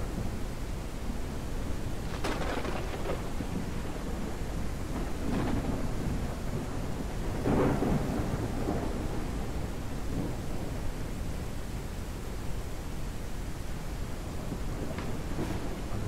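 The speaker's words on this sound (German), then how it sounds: "mit dem Regen ist echt gemein." Steady rain and rolling thunder in the farming game Ranch Simulator. A constant dense hiss of rainfall runs throughout, with several low thunder rumbles and cracks rising and fading, and no speech.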